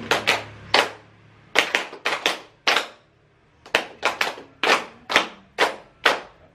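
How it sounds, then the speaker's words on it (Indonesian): Rhythmic hand clapping during a conductor's lesson for the Indonesian national anthem, sharp claps in small uneven groups with short pauses, close and clear with no voices. "Jadi tepuk ritmis itu saat kita membuka mulut atau saat kita mengucapkan lirik ya"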